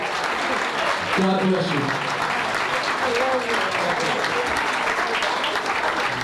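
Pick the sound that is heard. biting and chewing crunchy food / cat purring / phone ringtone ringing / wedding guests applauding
wedding guests applauding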